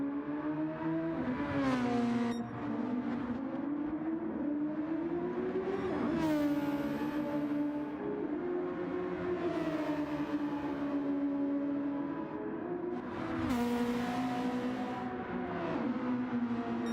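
Toyota GR Cup race cars in a racing game: steady engine drone with pitch swells as revs rise and fall through gear changes, several sharp upshift bursts, moderately quiet and continuous.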